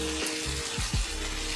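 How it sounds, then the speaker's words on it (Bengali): Fried potatoes tipped into a sizzling pan of home-style chicken curry, a steady close frying sizzle with a couple of brief stirring scrapes, no voices. "এখন আমি তাতে দিয়ে দিব যে ভাজা আলুগুলি"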